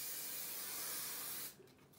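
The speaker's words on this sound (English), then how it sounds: "take your hairspray" Hairspray hisses from an aerosol can onto hair styled into a high ponytail with tape-in extensions, one steady, close, fairly quiet burst of about a second and a half that then stops.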